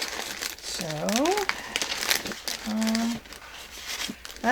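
Scrap paper being crumpled and crinkled by hand, close and loud in bursts, while a person talks throughout.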